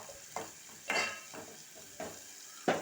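Onions are stirred in hot oil in a pan: a soft continuous sizzle with several distinct scraping stirs at irregular intervals, close and fairly quiet.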